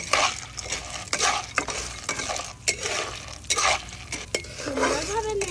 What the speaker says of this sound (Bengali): সুন্দরভাবে নেড়ে নিচ্ছি।